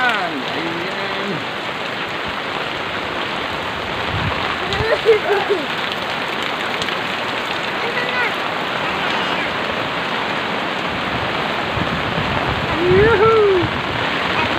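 Heavy rain pours steadily on a surface in a dense, continuous hiss that fills the whole stretch, with a few faint voices briefly underneath.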